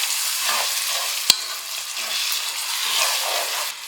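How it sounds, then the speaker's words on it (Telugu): Kashmiri chilli and other powdered spices being stirred into a hot cooking pan for vegetable biryani, with a soft steady sizzle, scraping spoon strokes and one sharp clack of utensil against the pan, close by. "ఇవన్నీ యాడ్ చేసిన తర్వాత మనం మిక్స్ చేసుకుందామండి"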